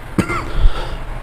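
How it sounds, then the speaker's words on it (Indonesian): A single short, sharp cough from a teacher during a maths lesson, close and fairly loud, followed by a softer low rumble and quiet room tone. "Ini sampai batuk-batuk"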